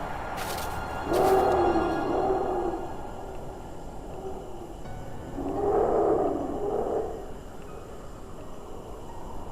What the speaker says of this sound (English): we heard echoing in the crisp mountain air, a deep guttural growl